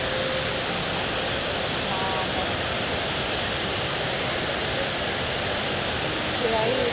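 Heavy, steady rush of water pouring in a large fountain in New York, a dense continuous roar close by that holds even throughout the clip.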